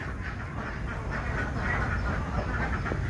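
Ducks on a large Malaysian duck farm with thousands of birds give off a dense, continuous chorus of quacking, steady and fairly close with no talk.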